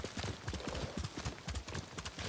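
Horse hooves clip-clop steadily in the game Ghost of Tsushima, a rhythmic run of close, fairly quiet hoof strikes with little else over them.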